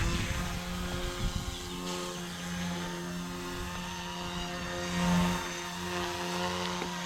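A Blade Infusion 120 RC helicopter flies nearby with a steady, high-pitched rotor and motor whine. The tone holds even, with small shifts in pitch and a short louder surge midway.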